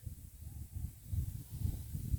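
Faint wind rumbles and buffets in low, uneven gusts across a rice field, with no other sounds.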